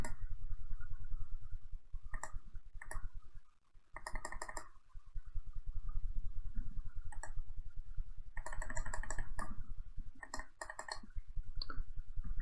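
Rapid mouse or keyboard clicks from someone playing a digital Magic card game fast, Rhystic Tron against UB Flicker, sounding as dense bursts of close, crisp clicks over a steady low background hum, with brief pauses between flurries.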